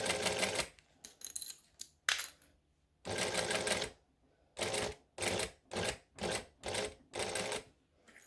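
A sewing machine runs in short bursts as it stitches slowly through a bulky zip section of a clutch bag, with about a dozen stop-start runs of whirring and brief pauses between them, close and clear.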